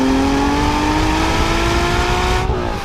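Porsche Boxster Spyder 987 engine revving loudly from inside the car, a steady rising pitch that climbs smoothly for over two seconds before easing off abruptly, with no talking.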